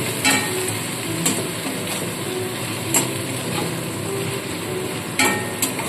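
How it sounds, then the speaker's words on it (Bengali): Onions and tomatoes sizzle in a steel wok while a spatula stirs them, sharp metal scrapes and taps recurring irregularly over continuous frying hiss. "একটু নাড়াচাড়া করে নেব আর ঢাকা চাপা দিয়ে এক মিনিটের মতো রেখে দেবো"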